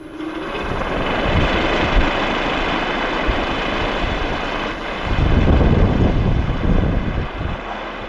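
A new lighter model wind generator starts up and spins, giving a steady broadband whirring drone that swells louder midway as the rotor picks up speed.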